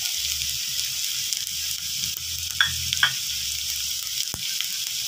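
Onions fry in a pan with added turmeric and chili powder, a steady close sizzle broken by a few brief clinks of stirring, with no talk.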